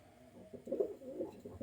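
Pigeons coo in a layered, warbling murmur, with several soft rolling coos overlapping in a steady rhythm, close by and fairly quiet, with no voices.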